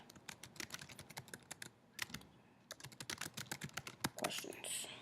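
Rapid, close keystrokes rattle in uneven bursts on a computer keyboard, with short pauses between runs.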